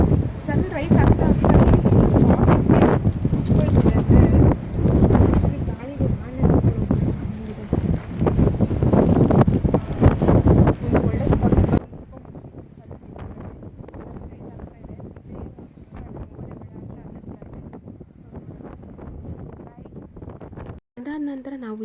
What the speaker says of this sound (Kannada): ಆ ಗಾಳಿ ರಭಸ ಎಷ್ಟು ಜೋರಾಗಿ ಬರ್ತಾಯಿತ್ತು ಅಂದರೆ, ಆ ಗಾಳಿ ರಭಸಕ್ಕೆ ನಾವೇನು ಮಾತಾಡ್ತಾ ಇದ್ದೀವಿ ಅಂತ ನಮಗೆ ಕೇಳಿಸ್ತಿಲ್ಲ